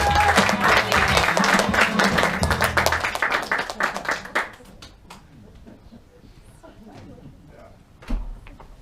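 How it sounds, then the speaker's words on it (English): Audience applause at a clown slam performance event, loud and dense at first, then fading out to scattered claps and quiet room noise, ending with a brief thump. "Come on, give that a applause."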